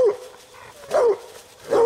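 A bluetick coonhound bays at a raccoon up a tree during a night coon hunt, three loud, drawn-out barks spaced about a second apart with quieter gaps between them.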